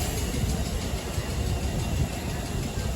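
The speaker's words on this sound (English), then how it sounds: "A 3-car train." A three-car New York City train passing by, a continuous rumbling roar of wheels and cars on the track, loud and steady for the whole stretch.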